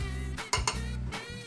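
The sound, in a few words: stirring sugar and dehydrated glucose in a bowl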